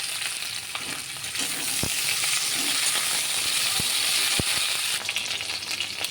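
Potatoes and okra fry in hot oil in a pan, giving a loud, continuous crackling sizzle with a few sharp spatula knocks scattered through it.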